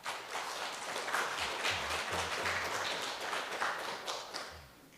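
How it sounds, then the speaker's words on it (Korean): A church congregation claps in welcome for a visiting deacon and his wife during a Sunday service, producing a steady, moderately loud wash of hands that continues throughout and fades slightly near the end. "한번 환영하는 우리 박수 한번 해주시면 좋겠어요."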